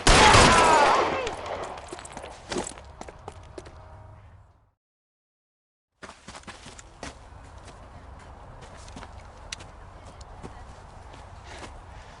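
Gunfire in L.A. Noire opens loud and close with a burst of shots, then trails off into silence before quieter footsteps and scattered sharp impacts resume, with no one speaking.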